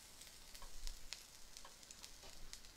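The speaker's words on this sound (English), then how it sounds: "put your shredded ginger in" Shredded ginger sizzles in a hot wok just emptied of salt and pepper prawns, a soft steady crackle with brief spitting pops scattered throughout, fairly quiet and with no voice over it.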